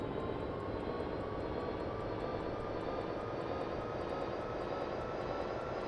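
An AI-9 auxiliary power unit on a Yak-40 jet spools up inside a flight simulator, making a steady, even turbine roar with a high whine that does not change throughout. No voices are heard.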